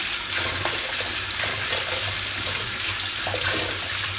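Tap water running steadily at a kitchen sink while kalimali greens are washed by hand, a continuous close splashing rush with faint handling sounds and no talk.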